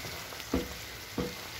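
Soffritto with anchovies melting into it sizzles in a pan for pasta with tomato, anchovy and pistachio. A steady close hiss is broken by two soft stirring knocks.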